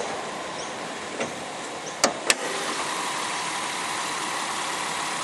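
Nissan Elgrand E51 Highway Star 4WD with its 3.5 litre quad cam V6 idling under the open bonnet, a steady moderate engine hum broken by a couple of sharp clicks.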